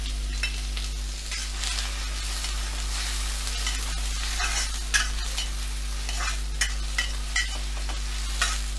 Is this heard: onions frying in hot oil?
yes